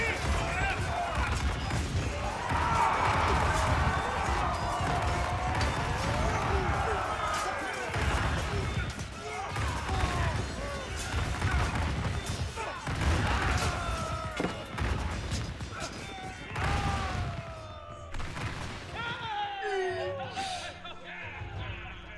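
Chinese Grenadiers clash with men-at-arms in Age of Empires 4, a dense run of explosive blasts, crashes and thuds in a crowded melee, with someone talking over the fighting throughout.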